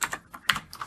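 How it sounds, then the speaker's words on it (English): Keys clatter on a computer keyboard in a quick burst of five or six sharp, close clicks with uneven spacing, alone without talk. "So now I'm going to hit enter on my keyboard twice"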